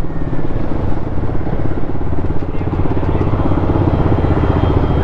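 Kawasaki Ninja 300 motorcycle engine running steadily at close range while being parked at night, a continuous low throbbing drone with no clear revving.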